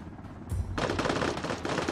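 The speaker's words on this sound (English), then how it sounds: "Firefight." Gunfire erupts in a video game firefight: after a quiet half-second, a dense, continuous burst of automatic weapon fire takes over, loud and sustained with rapid overlapping shots to the end.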